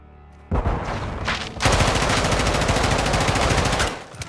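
Sustained automatic gunfire in Call of Duty: Modern Warfare II's cartel campaign mission, a loud, dense burst of rapid rounds, preceded by a couple of sharper single shots, running almost continuously for several seconds.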